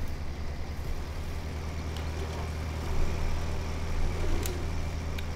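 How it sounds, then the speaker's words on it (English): A John Deere tractor being positioned under a trailer, its engine giving a steady, low, close rumble that swells slightly midway and never drops away. "we'll position the John Deere underneath."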